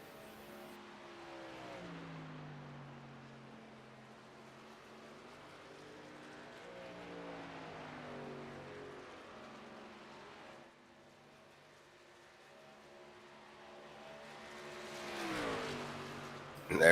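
Race trucks drive on an oval track as one leaves pit road, engines droning in rising and falling pitch at a moderate distance, with a louder surge at the end.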